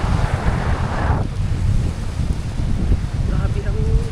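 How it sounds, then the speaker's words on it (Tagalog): Strong coastal wind ahead of an approaching storm on a beach in Pandan, Antique, roaring as loud, steady buffeting across the microphone with surf beneath, while people talk over it. "Lakas ng hangin. Para kami babagyuin dito sa baybay."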